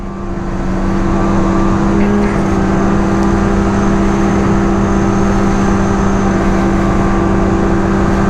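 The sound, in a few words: Assault 850 snowmobile engine accelerating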